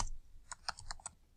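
About half a dozen light clicks from keys being pressed on a computer keyboard, quiet and close, in a quick irregular burst.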